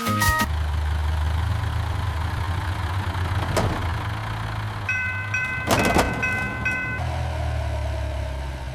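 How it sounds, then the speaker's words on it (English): A train rumbles past a level crossing, its engine droning low while bright warning tones and clanks ring out intermittently; no one speaks. "We must wait until the train goes away."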